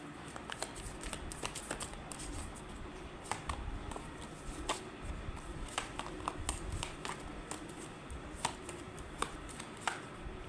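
Tarot cards being shuffled by hand: soft, faint riffling and sharp little card clicks repeat in short, irregular bursts over a quiet background.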